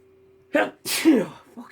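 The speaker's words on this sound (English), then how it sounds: "that was an epic sneeze I just had." A person sneezes loudly and close up. A short sharp intake is followed by an explosive burst, with a brief exhale afterward in a quiet room.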